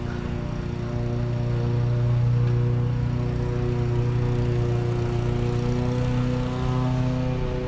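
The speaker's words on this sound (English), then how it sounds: "this guy's really mowing his own lawn." A lawn mower drones steadily at a distance outside a large house in Mineola, a continuous tonal engine hum that swells slightly and holds for the whole stretch.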